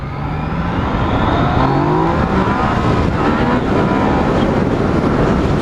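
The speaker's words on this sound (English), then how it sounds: "I'm going to try my best to replicate that wheelie that we had earlier, but in B mode this time." Engine of a 2016 Yamaha XSR 900 motorcycle during a wheelie attempt in B mode, a loud, close, continuous engine roar rising in pitch as it accelerates, with heavy wind noise and no talking.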